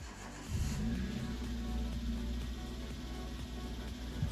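A rebuilt Subaru Justy GX engine catches on its first start, cranking briefly then settling into a steady, close idle with a slightly tappety mechanical rhythm.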